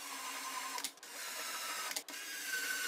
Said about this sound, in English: I drilled pilot holes at these spots